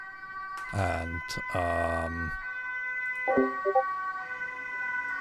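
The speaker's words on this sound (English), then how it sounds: "sorry for the ambulance." An ambulance siren wails loudly in rising and falling sweeps as it passes close by, then fades, with a brief spoken word and quiet room tone around it.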